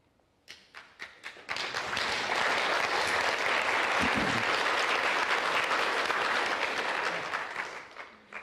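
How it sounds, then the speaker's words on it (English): Applause from a congregation at a Taoism service: a few scattered claps open, then swell into steady, dense clapping from the whole room that holds before tapering near the end. "Is that one hand clapping?"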